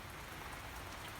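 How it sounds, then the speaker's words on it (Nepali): Rain pours steadily onto garden plants such as cactus and hibiscus, a dense, even hiss of drops that stays constant and close throughout. "यस्तो पानी पर्दैछ कि।"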